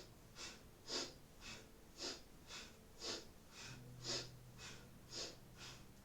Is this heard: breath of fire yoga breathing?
yes